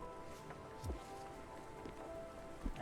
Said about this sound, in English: We're about to go through rain, actually.